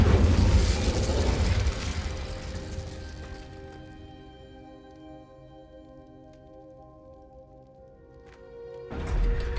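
An Incendio fire spell is cast in Hogwarts Legacy, a loud whooshing burst that fades into a ringing, humming tail before another rush of sound swells near the end.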